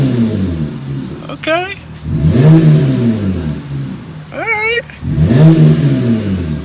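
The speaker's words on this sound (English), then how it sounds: "let me give you guys a couple revs" A 2020 Jeep Gladiator engine fitted with a Flowmaster dual exhaust revs twice in short bursts, rising and falling close up, with someone speaking briefly before the revs.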